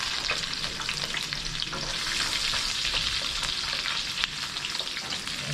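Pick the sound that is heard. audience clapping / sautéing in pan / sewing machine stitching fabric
sautéing in pan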